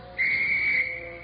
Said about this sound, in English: When you hear this whistle, you'll come to attention.